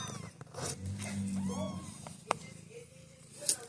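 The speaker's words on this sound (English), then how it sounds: "Here's Sunshine and all of her kittens. They're in a box in my bedroom." A mother cat with her kittens in a box in a bedroom: soft mews and small cries rise over rustling and handling noise, with a sharp click or two, all close by.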